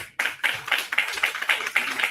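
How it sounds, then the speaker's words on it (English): An audience claps for a speaker at a talk or event, a run of distinct, fairly quiet claps in an uneven rhythm. "Y'all give TC another round of applause."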